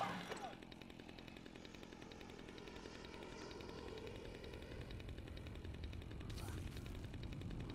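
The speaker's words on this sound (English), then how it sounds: "Chainsaw." A chainsaw in the zombie game Dead Rising 2: Case Zero rattles with a steady, buzzing engine drone at low level, running continuously beneath faint game ambience.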